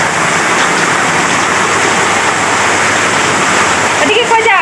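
Heavy rain pouring down in a steady dense hiss, close and loud throughout, with a brief voice cutting in near the end.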